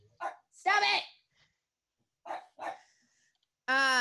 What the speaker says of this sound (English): Shouting at your dog is a very effective way of getting them to stop barking.